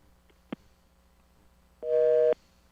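A radio call-in line drops with a soft click, then a telephone busy signal sounds as one short, steady, clear beep against a quiet background.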